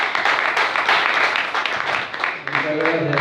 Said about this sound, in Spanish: Fuerte palmas para el ingeniero José Cadenías.